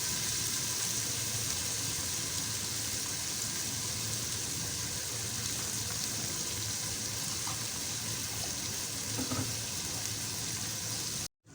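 Water is poured into a hot pan holding ginger, garlic and green chillies, producing a steady, loud, hissing sizzle that continues evenly throughout.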